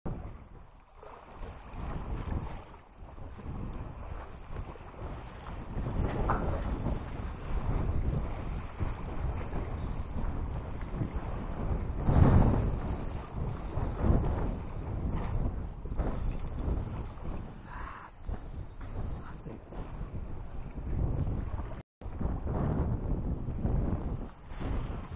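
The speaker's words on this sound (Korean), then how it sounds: "이제 바람이 좀 잔잔해지는 것 같은데." Strong wind buffets the microphone at a breakwater while fishing, a continuous low rumbling roar with gusty surges and brief dips, loud and close, no talk.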